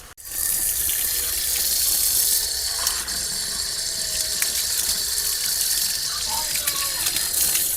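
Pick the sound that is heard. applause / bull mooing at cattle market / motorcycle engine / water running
water running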